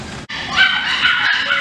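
Puppies in a puppy store where French Bulldogs and Chihuahuas are sold, yipping and whimpering in high, close, loud bursts, one brief gap near the start, no talk.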